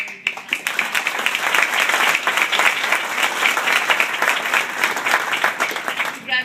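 A big round of applause from the crowd at a high school athletic hall of fame induction, steady dense clapping filling the room for several seconds before tapering near the end.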